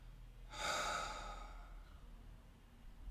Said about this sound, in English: Breathe with me. Exhale everything out